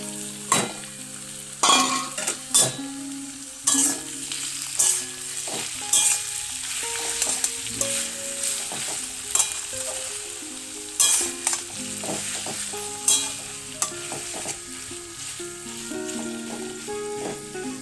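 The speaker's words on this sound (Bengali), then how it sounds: "তো এখন এর ভিতরে টমেটো দিয়ে দেবো, ঠিক আছে।" Tomatoes frying in a pan for chicken curry, with a continuous sizzle and repeated sharp scrapes and clinks of a spoon stirring against the pan, close and steady, no talk.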